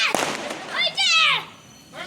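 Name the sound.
firecracker bursting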